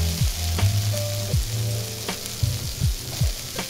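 Green beans stir-frying in a hot wok with red curry paste, a steady loud sizzle broken by scraping stirs of the spatula, close and with no talk.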